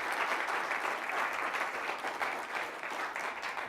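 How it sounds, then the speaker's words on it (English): Steady applause from an audience at an education summit reception, an even, continuous patter of many hands at moderate distance with no voices over it. "that deserves a round of applause right there"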